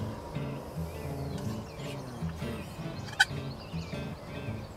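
Young wild turkeys, jakes, gobble in a grassy Wisconsin field near hunting decoys, with several rolling gobbles at moderate distance over outdoor background noise and one sharp click partway through.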